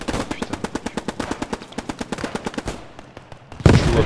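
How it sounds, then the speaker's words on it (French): Loud, rapid automatic machine gun fire in the WWII video game Post Scriptum, set in Arnhem, rattling in a steady stream of shots before a brief pause and a final heavier burst. "Ça venait de l'IGM ou pas là, les tirs?"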